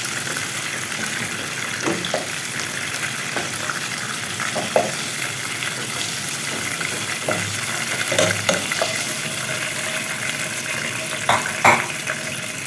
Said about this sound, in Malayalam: ഇതപ്പോൾ ചിക്കനൊക്കെ ഇവിടെ ഫ്രൈ ആയി വന്നിട്ടുണ്ട്